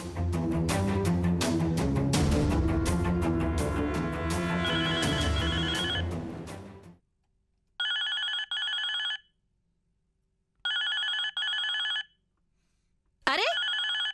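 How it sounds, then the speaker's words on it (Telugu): A telephone bell rings in bursts, first under loud music, then alone in three clear ring pairs separated by silence. "ఫోన్ మోగుతుంటే ఎత్తకుండా ఏం చేస్తున్నారు?"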